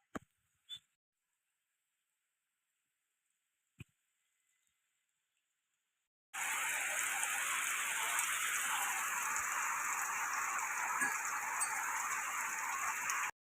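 Rain suddenly starts pouring in a rural Konkan village after a few faint ticks, then a steady, dense, loud hiss of downpour continues without letup.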